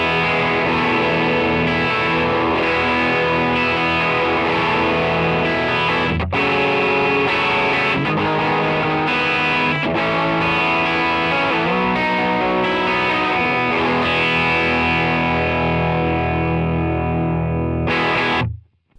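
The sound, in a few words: electric guitar through a NAM capture of a Fender Deluxe amp with Alessandro speaker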